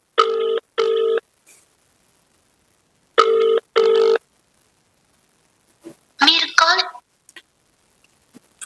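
A telephone rings and goes unanswered, two paired bursts of electronic ringing spaced a few seconds apart, loud and close, followed by a short muffled voice and scattered clicks.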